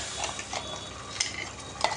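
Ground ridge gourd stirred in a hot pan with a steady sizzle, scraping strokes audible close by and a few sharper spoon knocks cutting through.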